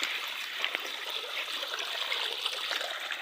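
Irrigation water flows across a crop field, a steady close rushing and trickling with small splashes, continuous and moderately loud with no voices.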